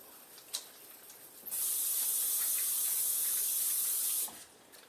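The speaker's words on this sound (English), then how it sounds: "let me wash my hands" Tap water runs loudly for about three seconds as hands are washed beneath it, a bright steady spray that starts abruptly and cuts off, with faint clicks before and after.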